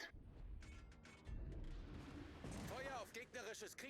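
Heavy naval gun salvos boom from a German battleship, the König, firing armor-piercing shells in World of Warships, with repeated deep blasts and mechanical clatter mixed with game voice chatter.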